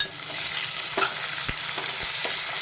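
Oil sizzles and crackles steadily in a pan as a tempering with tomato and coriander fries, with a few sharp taps of a spoon stirring, close by.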